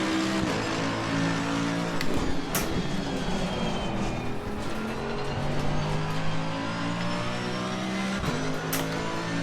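A race car in the sim game Assetto Corsa Competizione roars under throttle, its engine note rising and falling through gear changes with a few sharp shifts, loud and continuous.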